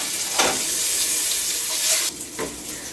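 Pork neck bones cooking in a pot for ham and beans, a constant loud sizzling hiss close by that drops briefly near the end, with no talk over it.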